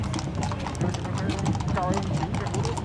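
Horses of the U.S. Border Patrol's Casa Grande Horse Patrol Unit clip-clop along a Veterans Day parade route, their hooves steady and close under a loudspeaker voice and crowd noise.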